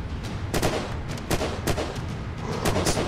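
Rapid gunfire in Unturned survival on the Elver map, a string of sharp close shots cracking in quick irregular succession, loud and alone with no talk.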